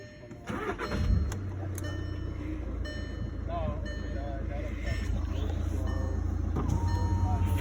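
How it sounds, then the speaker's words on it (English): A 2014 Volkswagen Golf TDI SportWagen diesel with a six-speed manual cranks and fires up, then settles into a steady idle that slowly grows louder. People talk over it. "It's fired up."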